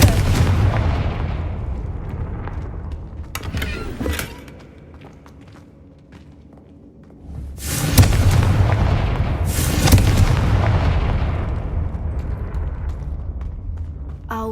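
Confringo blasting spell explosions in the Hogwarts Legacy video game: several loud booming blasts with sharp attacks, one early pair and two heavy ones later, each trailing into rumbling decay.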